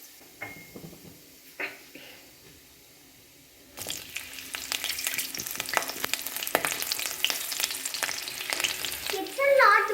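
Cumin seeds and chilies hit hot oil with a sudden loud, steady sizzle and crackle that carries on for several seconds, after a quieter start with faint kitchen clatter.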